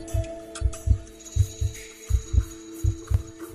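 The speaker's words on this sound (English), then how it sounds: "Just before Kelly died, she seen her own heart beating" Steady heartbeat sound effect for a horror story about Slender Man: paired low thumps in a regular lub-dub rhythm, about eight beats, with a faint hum under it and no voices.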